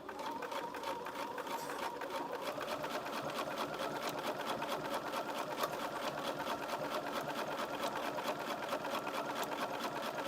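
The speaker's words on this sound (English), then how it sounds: "One thing I really like about this Bernina is that it adjusts the tension depending on what you're using" A Bernina sewing machine stitching a zippered pencil case with blue top thread, a fast steady whirring and ticking run that continues evenly and fairly faint throughout, with no talk.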